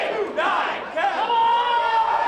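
A wrestling crowd at a pro wrestling show chants and counts in unison along with forearm shots, loud rhythmic group shouts filling the arena in surges.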